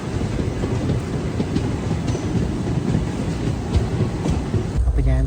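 The Thiruvananthapuram–Chennai Superfast Express rolls on through rain near Thrissur, a steady dense rumble and clatter of the carriages with rainfall mixed in, heard from inside the coach, no voices.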